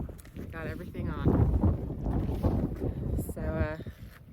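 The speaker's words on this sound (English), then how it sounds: "It's really windy." Strong wind gusting on a hiking trail in New Hampshire, a loud, low, continuous buffeting roar against the microphone that masks a voice speaking through it.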